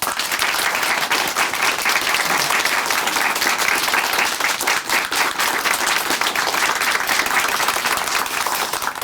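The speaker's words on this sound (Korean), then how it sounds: "큰 박수 보내드릴게요" Sustained audience applause in a televised church testimony program, a dense, even wash of many hands clapping steadily for about nine seconds.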